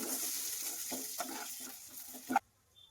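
Cumin seeds and dried red chillies fry in oil on low heat, a close sizzle broken by a few stirring scrapes and a clink before it cuts off abruptly into near silence.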